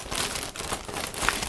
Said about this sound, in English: Now I'm opening the next plastic bag,